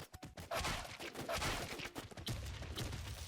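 Rapid bursts of gunfire from a collectible gun being test-fired, sharp cracks repeating close and loud with little pause, a brief voice at the start.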